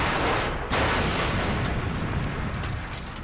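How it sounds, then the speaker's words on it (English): A wounded Focke-Wulf 190 strikes the ground and explodes: a loud, dense roaring blast that fills the whole clip, with a brief dip before the rumble slowly fades. "The wounded Focke-Wulf hits the ground in a brilliant explosion."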